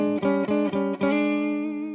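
A bright plucked jazz guitar chord struck several times in quick succession, then left ringing out and slowly fading.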